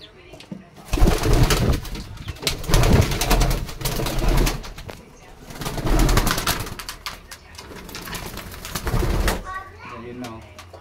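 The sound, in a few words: pigeons cooing in a loft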